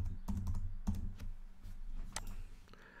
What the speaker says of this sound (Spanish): A continuación voy a teclear el número del año en el que estamos.